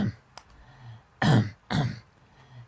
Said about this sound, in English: just had to clear my throat.